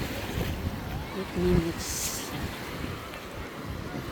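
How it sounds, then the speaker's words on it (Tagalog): Strong water rushing and surging at the shore in Noja, Cantabria, Spain, a continuous broadband roar with wind buffeting the microphone, while people talk over it. "Grabe, lakas ng tubig."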